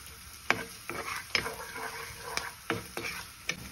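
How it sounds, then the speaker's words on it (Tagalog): Garlic and onion sauté in a little oil in a pan with a moderate, close sizzle. Regular clacks and scrapes of a spatula stirring the pan sound about every half second, with no talking. "maglalagay lang tayo ng konting mantika para gisahin yung bawang sibuyas"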